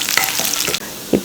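Dried red chillies crackle and sizzle in hot oil in a pan, a short burst of frying hiss broken by a couple of sharper sputters and stirring scrapes near the end.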